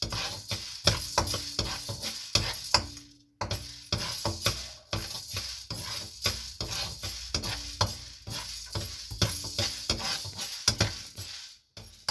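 Peppercorns frying in a pan for sambar ready-mix, with spluttering pops and frequent scraping stirs and light metal clinks, close and fairly quiet, no talk.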